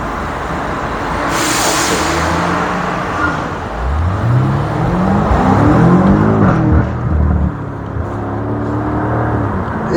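A BMW M5 Competition F90 passing through a toll gate: steady engine drone, then a strong revving climb with rising pitch that peaks and settles back into a loud, close cruising hum.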